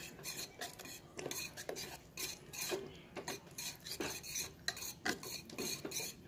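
Butter being stirred into hot banana brownie glaze, with a utensil scraping and clinking against the bowl in a steady, close, irregular rhythm throughout, no talking.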